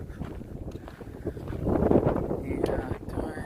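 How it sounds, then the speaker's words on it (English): Wind buffets the microphone on an outdoor desert hike, a low rumbling gusty roar that swells in the middle, with people talking over it. "And it's windy."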